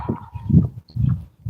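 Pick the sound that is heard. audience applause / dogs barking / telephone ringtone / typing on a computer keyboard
dogs barking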